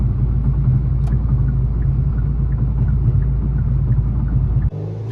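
A Hyundai Kona N on a test drive, its engine and road rumble droning loud and steady throughout before cutting off sharply near the end.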